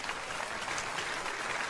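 Audience applause at a large stand-up comedy show with about 2,400 people, a steady wash of clapping that holds at an even level through the clip, with no one speaking over it.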